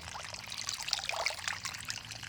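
Lotus tubers washed with a spray of water, a continuous close splashing and trickling hiss that stays fairly even throughout, with no voices.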